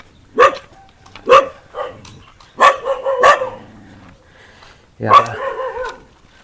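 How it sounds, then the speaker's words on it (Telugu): Several sharp dog barks ring out in separated bursts, fairly close, in Thailand, with a few yips in between and some voices in the background. "కుక్కలు అరుస్తున్నాయని చెప్పేసి"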